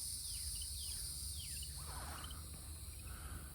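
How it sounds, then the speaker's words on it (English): Frogs singing outdoors near an Imbe (Garcinia livingstonei) fruit tree, a steady high chirping chorus with repeated sweeping calls over a constant low hum, continuous and moderately distant. "I love the singing frogs."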